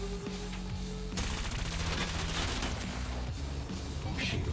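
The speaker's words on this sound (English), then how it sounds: "Cannon." A rapid-fire cannon weapon in the futuristic racing game Wipeout Omega Collection, firing a fast continuous stream of shots over a droning engine and background music.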